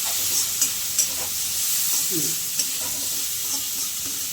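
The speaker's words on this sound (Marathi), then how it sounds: "आपण त्याला टाकायचं काय कांदा जरा लाल सर होऊन द्यायचे आपल्याला" Onions frying in a pan for sambar, a steady close hissing sizzle with a few soft stirring knocks, while a voice speaks faintly in the background.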